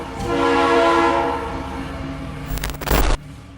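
Train at a railway station: a loud rumbling, horn-like tonal drone swells in the first second and then eases off. A burst of clattering and hissing follows near the end before it cuts off sharply.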